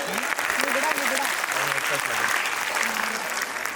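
Applause from the audience at a school's annual function, a steady wash of many hands clapping throughout, with a voice speaking over it.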